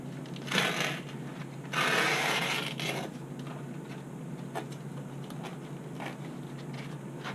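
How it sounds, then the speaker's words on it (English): Wooden spars on a Stinger 30 model being roughened up, rough rubbing and scraping strokes in two louder bursts early on, then quieter intermittent scratching close by. "never hurts to roughen these spars up a little bit"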